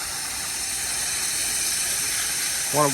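A steady, loud hiss of a softwash sprayer spraying water continuously onto a house, with a brief voice at the very end.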